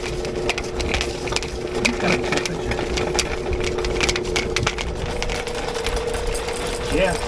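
A sewer cable machine digs through a clogged drain, giving a continuous mechanical whir and rattling chatter at close range, with people talking over it.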